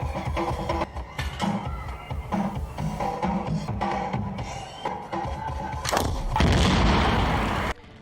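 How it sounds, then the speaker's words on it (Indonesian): Gunfire and a car exploding in a film scene: a run of loud, sharp shots and booms over dense rumbling action sound, swelling into a sustained roaring blast near the end before cutting off. "Ipan berhasil menembak mobil itu sehingga meledak"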